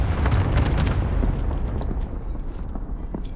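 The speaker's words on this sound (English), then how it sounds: "Allied cluster strike arriving." Cluster strike explosions in a battle royale video game: a dense run of booming blasts and bursts that rolls on continuously, fading slightly toward the end.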